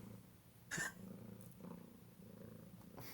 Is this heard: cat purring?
yes